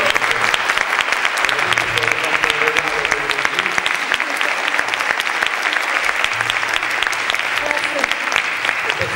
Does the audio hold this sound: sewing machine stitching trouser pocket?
no